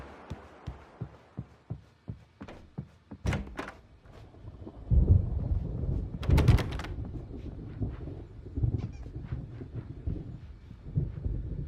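Low thunder of an approaching storm in the video game Alan Wake Remastered rumbles in after a run of soft, evenly spaced thumps, swelling and fading over several seconds with no voices.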